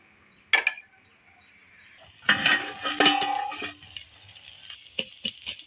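A metal lid clatters onto a cooking pot with several clinks and scrapes while taro and drumstick-leaf chorchori with small fish cooks. The handling noise is close and moderately loud, with quieter clinks after it.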